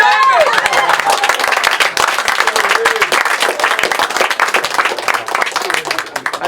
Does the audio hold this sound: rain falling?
no